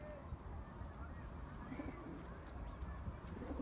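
Pigeons cooing softly in a loft setting where a young bird is being prepared for flight, a low murmuring burble running steadily throughout with faint rustling in the background.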